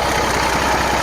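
An old abandoned turbocharged truck engine idles steadily after being revived, a loud, continuous low rumble with a fast, even mechanical pulse and no speech.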